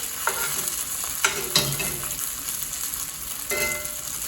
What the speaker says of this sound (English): So now as this butter begins to brown, I'm going to give the fish just a little bit of a baste.